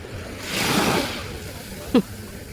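Ocean waves wash onto a beach at a free seaside campsite near a pine forest, a soft rising and falling surge with a brief splash near the end, close by and moderately loud.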